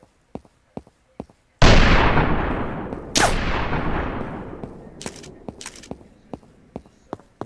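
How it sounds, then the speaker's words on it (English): A shotgun fires two loud, booming blasts in a video game, each trailing off in a long reverberant decay, with light mechanical clicks before and after. "But I'm gonna use the shotgun."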